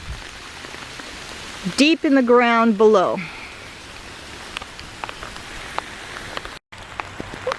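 Heavy rain falls on garden earthworks at Finch Frolic Garden as a steady broadband hiss with scattered drop ticks, continuing under a brief stretch of speech.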